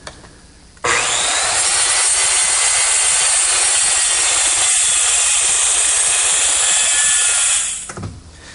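A table saw trims one end of a cured, glued-up wooden butcher block square, a single loud continuous cut starting abruptly and tapering off as the blade clears the wood.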